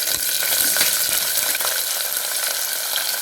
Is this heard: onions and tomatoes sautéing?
yes